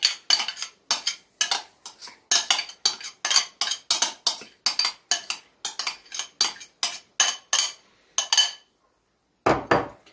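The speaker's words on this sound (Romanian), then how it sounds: "Și amestecăm bine." A spoon scrapes and clinks around a bowl while sour cream garlic sauce is mixed, a fast run of sharp, close strokes for about eight seconds, then a pause and one last burst.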